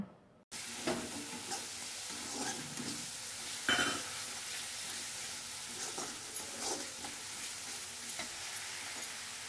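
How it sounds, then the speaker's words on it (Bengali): Spice paste with green chillies for chana dal is stir-fried on a low gas flame. After a brief silent start, a soft, continuous sizzle runs throughout, broken by periodic scrapes of the spoon. "গ্যাসের ফ্লেমটা আস্তে করে করে মশলাটা ভালো করে কষিয়ে নিচ্ছি।"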